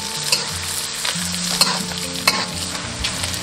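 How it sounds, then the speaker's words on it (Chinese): Dried seafood stir-frying in rendered pork fat with ginger slices in a wok, a steady close sizzle broken by several sharp scraping stirs of the spatula. "下入海鲜干货炒香"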